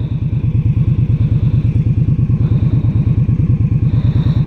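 A 2016 Indian Scout motorcycle's V-twin engine runs steadily and close, its loud, even low-pitched pulsing throb carrying alone with no talk.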